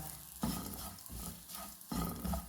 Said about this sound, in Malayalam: ഒരു രണ്ട് സ്പൂൺ മുളക് പൊടി ഇട്ട് കൊടുക്കാം അതൊന്ന് മൂപ്പിക്കട്ടോ